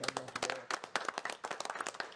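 Scattered clapping from a small group at a city building standards commission meeting honours a retiring colleague, individual hand claps audible in an uneven, sparse rhythm at moderate distance.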